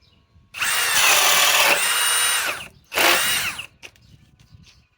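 Ridgid high-torque hammer drill on a 3 amp Octane battery spinning a 1.5 Speed Demon bit, two loud close bursts of high whining drilling, the first about two seconds and the second shorter.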